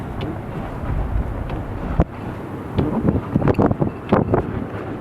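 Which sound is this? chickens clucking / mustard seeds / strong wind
strong wind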